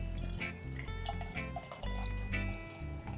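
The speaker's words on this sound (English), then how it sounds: "So we're going to pour it up into my Great Lakes pop can style glass." Great Lakes Brewery saison beer being poured into a pop-can style glass, a close, quiet run of gurgling glugs and splashes in uneven bursts.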